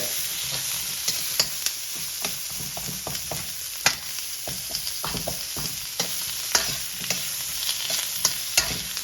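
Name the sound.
onions frying and being stirred in a pan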